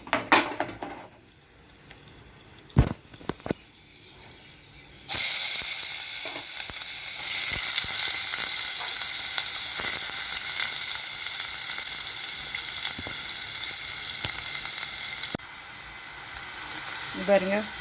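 Onions fry in a pan for a lentil dumpling curry, paruppu urundai kuzhambu. After a quiet opening with a few clattering knocks, a loud, steady sizzle bursts in and continues up close, with occasional stirring.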